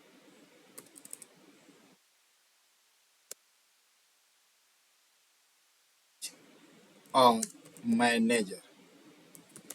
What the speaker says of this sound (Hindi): इतना टाइप कर दिए और इंटर मार दिए